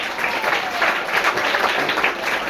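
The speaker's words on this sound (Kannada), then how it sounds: "ಅವರಿಗೆ ಜೋರಾದ ಚಪ್ಪಾಳೆ" An audience at a Kannada quiz programme applauds a student contestant who answered correctly. The clapping is a full, even wash of many hands at moderate distance, steady throughout with no voices.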